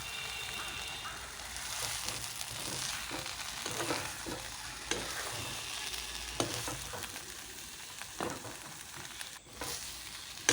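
Taro leaf curry sizzling and frying in a pan while being stirred, with a steady close crackle and repeated scraping strokes of the spoon running throughout, no voices.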